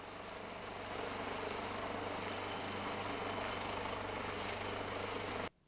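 Steady, loud helicopter rotor and engine roar during a Toyama prefectural police riot unit rescue drill in a simulated flooded park, continuous and close before cutting off abruptly.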